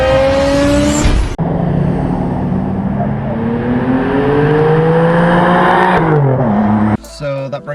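A Subaru Legacy B4 RSK engine revs hard and climbs in pitch through gear changes, loud and close, with abrupt cuts between passes.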